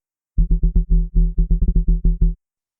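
Synth bass run through phasers, saturation and wave shaping plays a choppy rhythm of roughly fifteen short low stabs, thicker and more harmonically rich than a dry bass, close and alone.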